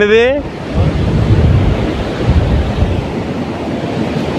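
Sea waves roll in steadily at Sankaraguptam beach, a loud continuous surf wash mixed with gusting wind buffeting the microphone, after a brief tonal sound at the very start.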